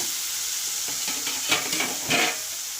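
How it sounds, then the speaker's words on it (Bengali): Boal fish spice paste with shahi garam masala being sautéed in a pan, a steady close sizzle broken by several scraping, clinking stirring strokes, with no voices. "সেটাকে এই মশলার সঙ্গে ভালো করে কষিয়ে নেব"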